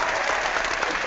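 A brief burst of applause, a dense, even patter of clapping that holds steady for about a second at moderate volume.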